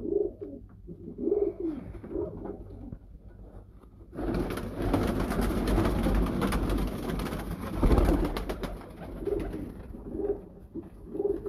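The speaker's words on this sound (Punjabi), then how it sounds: "ਬਰੀਡਰ ਟੈਡੀ ਕਬੂਤਰ ਨੇ ਸਾਰੇ ਹੀ ਇੱਕ ਹੀ ਬਰੀਡ ਦੇ ਨੇ" Teddy breed pigeons coo steadily on a rooftop, soft repeated low calls at close range, with a stretch of broadband noise partly covering them before the cooing returns.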